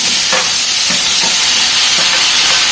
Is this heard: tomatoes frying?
yes